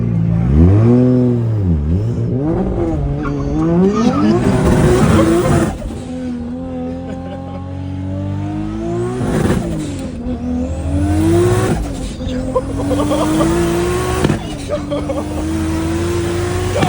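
A BMW 340i with a B58 engine running on ethanol accelerates hard through several gears, loud and close from inside the car, rising engine pitch repeatedly climbing then dropping at each shift, with people talking and exclaiming over it.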